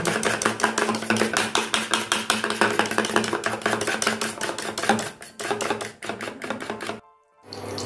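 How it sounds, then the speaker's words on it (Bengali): A fork or whisk beats a batter seasoned with ground pepper against a bowl in fast, even, loud rhythmic clicks. The strokes hold steady, then pause briefly and stop near the end, with no talking. "এবার আমি এটাকে ভালো করে ফেটিয়ে নেব।"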